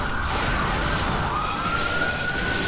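A siren wails through a Final Fantasy XIV dungeon, a steady tone sliding upward over a dense, loud bed of game noise, with no talk during it.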